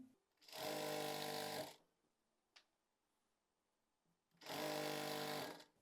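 A sewing machine stitching a seam in palazzo fabric runs in two loud, steady bursts of rapid whirring, separated by a quiet pause with a single click.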